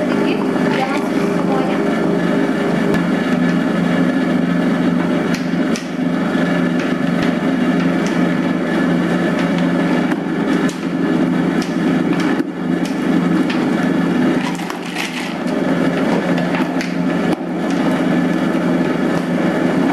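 An electric dough mixer kneads bread dough for soft Maxibun bakery rolls, with a steady, loud motor whir and churning that runs without a break and dips only briefly.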